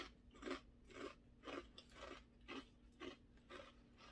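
Crisp, close crunching of a super-thin almond snack, about eight regular bites or chews spaced roughly half a second apart, quiet and alone with no talking.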